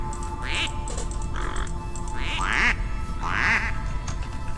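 Ducks quack in the Minecraft fossils and archaeology mod, sounding four or five nasal bursts in an uneven series over a steady background hum, with no talking.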